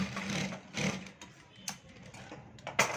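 A sewing machine stitches around a bell sleeve in short, uneven bursts of clattering needle action, fairly quiet and close, with brief pauses between runs.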